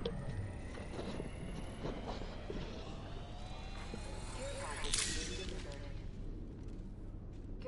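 A moving train in the video game Apex Legends rumbles steadily at low pitch, with squealing wheel tones sliding through it and a sharper crack midway, heard at a distance and fairly quiet.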